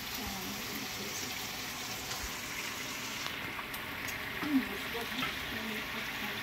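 Stir-fry sizzling in a pan alongside a pot of soup on the stove, a steady low hiss with faint clinks of a utensil, fairly quiet and continuous.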